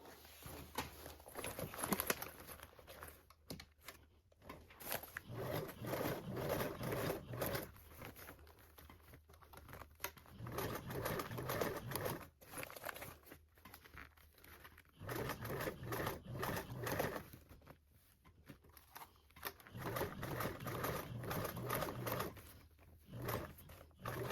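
Sewing machine top stitching a toiletry bag at a one-eighth seam allowance, running in repeated bursts of a few seconds separated by short pauses, with faint rustling of fabric between runs.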